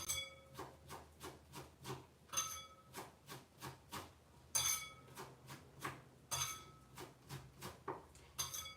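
Broccoli being stir-fried in a pan, with a steady rhythm of sharp metallic scrapes and clinks from the utensil, about two strokes per second, close but fairly quiet, no talking.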